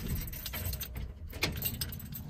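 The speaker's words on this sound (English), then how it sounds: "I'll turn the ignition switch on here." Keys jangle and click as the ignition key is turned on in a 1966 Chevy Corvair fitted with an electric fuel pump, a brief close metallic rattle with a sharper click midway.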